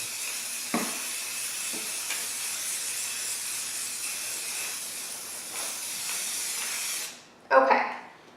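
A spray paint can hisses in one long continuous burst as a coat goes onto a canvas, steady and close, then cuts off, followed by a short clatter.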